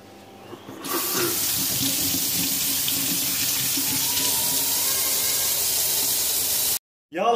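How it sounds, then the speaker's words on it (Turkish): A kitchen tap runs while someone washes their hands during cooking. A steady, close splash of water pours into the sink for several seconds and then cuts off abruptly, followed by a brief clatter. "Şu elimizi bir yıkayalım."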